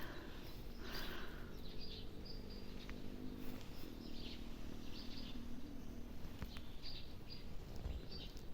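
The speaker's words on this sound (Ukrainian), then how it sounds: "Пташки співають як гарненько." Small birds chirp and trill faintly in the distance on a spring day outdoors. The calls come in short scattered bursts over a quiet, steady background hiss, with no talking.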